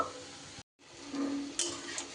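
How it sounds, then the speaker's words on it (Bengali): Fritters of mixed split pea and chickpea lentil batter fry in hot oil, a close steady sizzle broken by a brief gap and a few light utensil touches. "আমি এটা সুন্দর করে বড়াগুলো তেলের মধ্যে ভেজে নেব"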